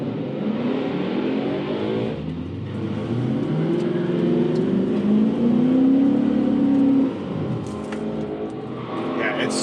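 An Infiniti Q45 on new, taller-tired wheels accelerates hard, its engine note climbing steadily for several seconds, loud and close from inside the car, with a voice speaking over it.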